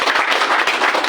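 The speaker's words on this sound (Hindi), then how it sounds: "तो जोरदार ताली कंपनी के" Dense applause from a crowd at a business opportunity meeting, steady rapid clapping throughout the short burst.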